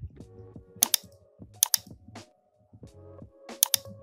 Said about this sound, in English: I'm going to type in 800